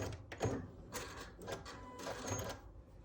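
A sewing machine stitches pieces of a beginner nine-patch quilt block in short, uneven mechanical bursts, close and moderately quiet, with no talk.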